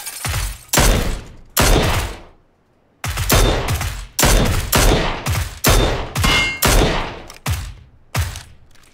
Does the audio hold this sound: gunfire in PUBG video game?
yes